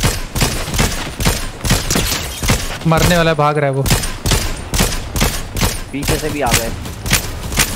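Rapid bursts of Fortnite gunfire crack out repeatedly in quick volleys throughout, with players talking excitedly over the shots.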